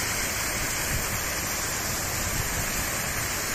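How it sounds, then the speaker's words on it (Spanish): The Reguera de Cochero waterfalls on the Río Aller in Asturias roar as the stream cascades down, a dense, loud, unbroken rush of falling water close by with no voices over it. "mira cómo baja el río, mira cómo baja el reguero"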